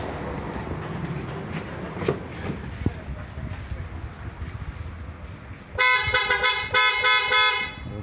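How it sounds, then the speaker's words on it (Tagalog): Japan-made PIAA-style aftermarket horns fitted to a Toyota Hilux blare in a few loud, close, tonal honks near the end, following a stretch of engine and road noise. "PIE horn auto style mga busing,"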